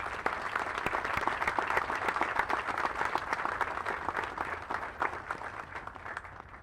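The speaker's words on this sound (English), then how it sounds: "please join me in giving our awardees a round of applause" An audience at an Army Cadet Summer Training 6th Regiment Advanced Camp graduation ceremony applauds the awardees, a sustained wash of many hands clapping that holds steady for several seconds and then begins to taper, with no voices over it.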